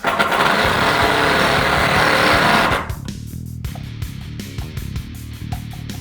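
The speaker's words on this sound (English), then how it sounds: "we are going to switch out to our Phillips bit, and we are going to run down these screws" A power driver fitted with a Phillips bit runs screws into the neck of a custom J-style bass, starting with a loud, steady whirring burst and settling into quieter, uneven ratcheting and clicking, close up.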